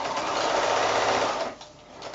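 A sewing machine chain piecing fabric strips for quilt sashing, running in a fast steady whir up close, then stopping abruptly partway through.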